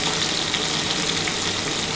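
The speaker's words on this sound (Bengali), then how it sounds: "নুনটা দিয়ে ভালো করে একটু নাড়াচাড়া আগে করে নিতে হবে।" Vegetables for Bengali shukto sizzle steadily in oil in a pan as salt is added and they are stirred, a constant, close frying hiss with no talk.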